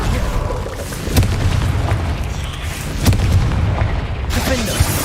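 Confringo fire spell explosions boom in Hogwarts Legacy, two loud low blasts about two seconds apart with rumbling tails, followed by a third burst near the end, over game combat noise.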